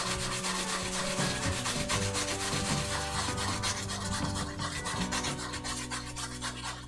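A cloth soaked in isopropyl alcohol rubs acrylic paint off a plastic scale model, producing continuous close scratchy scrubbing strokes with an even rhythm.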